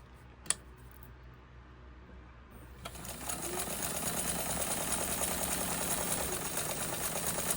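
A White model 1563 sewing machine running slowly while sewing a satin stitch, a steady continuous whir that starts after a faint click and holds at an even level to the end.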